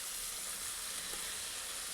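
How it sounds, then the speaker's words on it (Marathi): Chopped spring onion greens tossed into hot oil for tempering give off a steady, loud, close sizzling hiss that fills the whole stretch with no one speaking. "बारीक चिरून घेतलेली कांद्याची पात मी इथे फोडणीला टाकत आहे"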